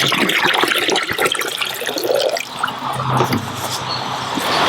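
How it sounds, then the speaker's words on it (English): Water pours from a jug into a plant pot, a steady splashing, gurgling stream close by that runs the whole time, with no talking over it. "I'm going to take this jug of water and I'm going to pour it into this pot"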